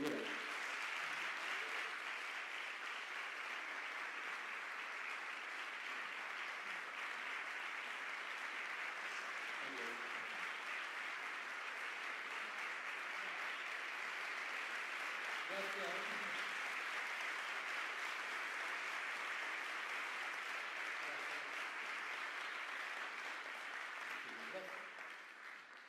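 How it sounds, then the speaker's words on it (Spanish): Audience applause at a tribute event for a musician: sustained, even clapping from a large crowd that carries on for a long stretch before fading slightly at the end, with faint voices beneath. "Jo demanaria un gran aplaudiment"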